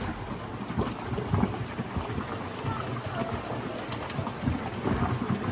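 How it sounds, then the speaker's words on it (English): Deep rumbling rush of water booming and echoing off canyon walls in The Narrows, Zion National Park, like distant thunder, continuous with irregular surges; a voice speaks faintly at times. "it's actually water flowing back in the canyon walls and resonating off the walls"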